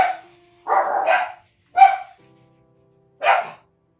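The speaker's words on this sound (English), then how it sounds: "Either someone's here or my dogs are very excited for no reason." Several excited dog barks indoors, a longer burst followed by two separate sharp barks with pauses between, fairly close and loud with no talking.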